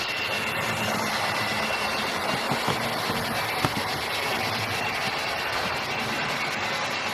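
Hornby and Lima GWR King Class model locomotives from the 1970s run around a model railway track, giving a continuous even motor whir and wheel rumble with a faint click over rail joints, steady and close, with no talk.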